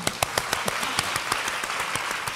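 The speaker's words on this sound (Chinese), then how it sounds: "那我们掌声祝贺祝贺她吧" Audience applause at a live Taiwanese crosstalk comedy show, a steady wash of many hands clapping at moderate volume, with sharper individual claps standing out.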